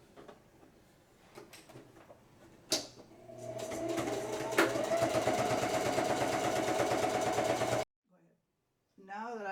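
A sewing machine runs steadily for about four seconds stitching the opening closed on a fabric canoe-style stocking, a close, even mechanical whir that stops abruptly, preceded by a few handling clicks.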